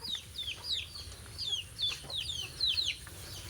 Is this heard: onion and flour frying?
no